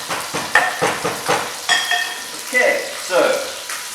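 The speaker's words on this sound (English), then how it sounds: "We're going to put it skin side down. We've seasoned it nicely." Seasoned chicken, skin side down, sizzling and crackling in a hot pan, a steady frying hiss with small spits and pops running under a voice.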